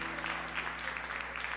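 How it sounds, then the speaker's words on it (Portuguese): Church congregation clapping together for the Lord, a steady dense patter of many hands close by with no pauses, over a faint low hum. "Vamos aplaudir ao Senhor pela vida das nossas irmãs aqui."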